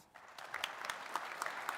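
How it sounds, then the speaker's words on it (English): A small audience applauds newly installed officers at a student awards ceremony, a brief patter of scattered hand claps heard faintly from a distance. "Let's give them a big round of applause."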